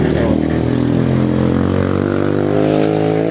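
A borrowed motorcycle idles at a steady rumble close by, its engine hum continuous and loud for the whole stretch, with no talk over it.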